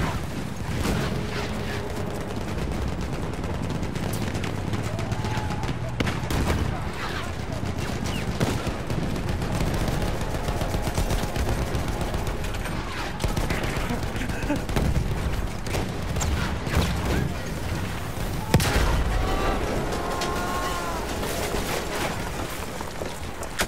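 Video game battle gunfire, dense continuous volleys of shots and booming blasts filling the whole stretch, with voices shouting over the din.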